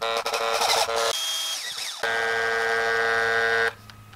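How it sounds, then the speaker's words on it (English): A small high-pitched drill whines in loud bursts, stopping and restarting with shifting pitch as it bites into a small fishing lure. "It's never a comfortable feeling drilling things this small"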